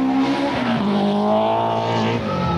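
A BMW M3 E30 rally car at the 1989 Sanremo Rally drives hard, its engine holding a loud, steady harmonic tone with rising and falling pitch throughout, close to the listener.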